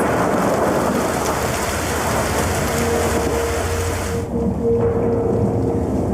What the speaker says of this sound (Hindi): तूफान बहुत तेज है